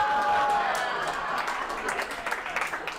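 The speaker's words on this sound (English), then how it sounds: "you're clapping because you're the crazy people that are all on the Craigslist" Audience applause at a stand-up comedy show, a burst of clapping that starts loud and slowly tapers while a voice talks over it.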